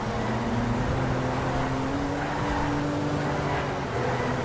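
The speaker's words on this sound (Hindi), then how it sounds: "तो अपनी गाड़ी यहाँ से भगाते हैं" A car in GTA 5 speeds away with a loud, sustained engine roar that climbs in pitch as it accelerates, with faint tire noise running underneath throughout.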